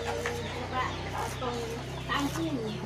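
Free-range village chickens cluck softly in a yard in Cikaruk, Panimbang, a few low scattered clucks and calls heard at moderate distance while people talk.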